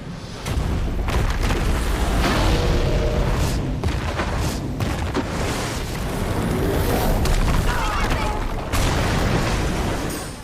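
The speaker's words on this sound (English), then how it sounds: "Titan will perform his Earthen Fury attack, which does unavoidable massive damage to the whole party." Titan's Earthen Fury attack in the video game Final Fantasy VII Rebirth, a long rumbling barrage of heavy booms and blasts layered with dense crashing effects, loud and sustained.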